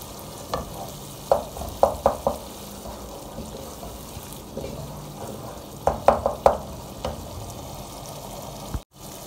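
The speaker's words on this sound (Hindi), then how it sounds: "अब हम इसको थोड़ी देर और भूनेंगे और फिर इसमें चने ऐड करेंगे।" Onion, garlic and ginger masala is fried and stirred in a pot for white chana curry, a low sizzle under repeated sharp spoon scrapes and taps in two clusters, with no speech.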